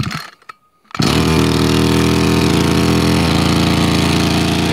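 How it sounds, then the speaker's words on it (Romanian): A flooded brush cutter engine sputters briefly, falls silent for a moment, then catches and runs at a loud, steady roar close by, with no talking. "Deci tragem la demaror de câte ori nevoie, poate să fie nevoie și de 20 de ori până pornești"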